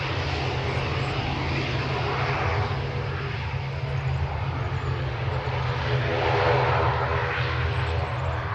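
An airliner departs Manchester Airport bound for Paris Charles de Gaulle, heard as a continuous loud engine roar with a strong low drone, swelling slightly toward the end.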